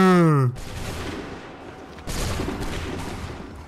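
Musket volley fired by a line of British soldiers in the Assassin's Creed 3 video game: a sudden loud massed crack that rolls into a dense rumbling tail, followed by a second burst of gunfire, with shouted voices just before.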